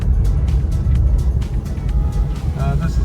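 Car interior on the move, a low steady road rumble and engine hum filling the cabin with faint ticking clicks, while a person talks over it.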